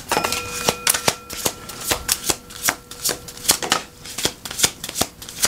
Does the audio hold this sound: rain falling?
no